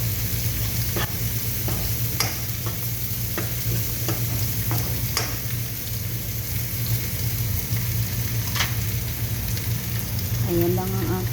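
Biryani ingredients, including chili and potatoes, sizzle and are stirred in a hot pan: a loud, continuous frying hiss broken by repeated clinks and scrapes of a spoon against the metal.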